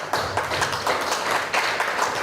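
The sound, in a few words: audience clapping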